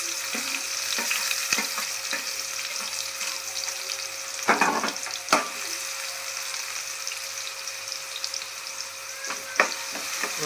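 Chopped onion fries in a pan with a continuous close sizzle, broken by a few sharp stirring clatters and scrapes, over a faint steady hum.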